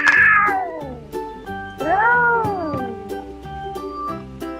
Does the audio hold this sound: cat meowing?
yes